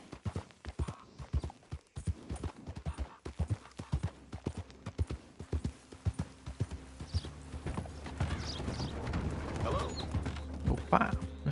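Horse hooves clip-clop steadily in Red Dead Redemption 2 on PS4, loud, near and rhythmic at first, then thickening into denser ambient noise with faint bird calls. No one speaks.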